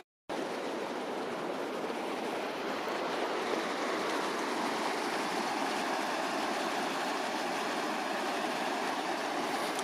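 A river beside the Fisherman's path between Nantmor and Beddgelert rushes steadily, a continuous broadband wash of flowing water close by with no other sounds.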